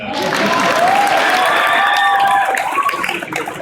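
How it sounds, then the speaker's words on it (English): Audience applause at a civic event welcoming the mayor of Vaughan, a dense steady clatter filling the room for a few seconds and tapering off, with no talk. "You can applaud now."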